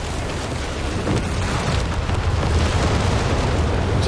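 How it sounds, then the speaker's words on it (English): Artillery overwatch barrage in Company of Heroes 3 pounds the area with dense, continuous rumbling blasts that merge into a loud, rolling roar for the whole stretch. "Drops the artillery overwatch down on this though, and it's doing some massive damage"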